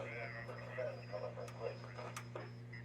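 A vintage Hallicrafters tube radio, an S-40 or SX-24 Skyrider, warming up gives off a steady low electrical hum that holds throughout, with faint murmuring and soft crackles drifting over it.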